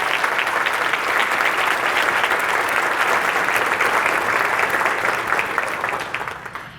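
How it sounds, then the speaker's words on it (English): Sustained applause from an audience at a keynote talk on multiple sclerosis, dense and steady for several seconds before tapering off near the end, with no talk over it. "I want you to give a big round of applause for these MS warriors in the room."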